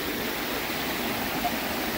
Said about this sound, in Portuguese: Chegamos na cachoeira, gente.